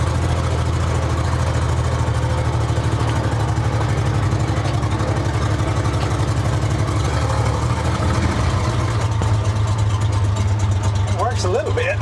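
A 1947 International Harvester KB3 fuel truck engine drives along in low gear, a loud, steady, deep rumble running throughout while someone talks over it.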